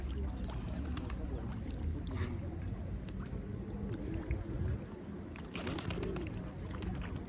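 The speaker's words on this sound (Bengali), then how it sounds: "ঝাঁকে ঝাঁকে পাখি আসে এখানে।" A flock of ducks and other birds at a clear lake gives scattered calls and soft cooing over a constant low background rumble, fairly faint and without speech.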